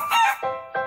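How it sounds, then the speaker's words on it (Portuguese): A chicken gives three short, close clucking calls in quick succession, each one sharp and nasal, with brief gaps of silence between them. "galinha,"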